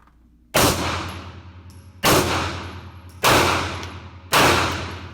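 A CZ P-07 pistol fired at a range: four loud, sharp shots at a fairly quick, even pace, each with a ringing, reverberant decay.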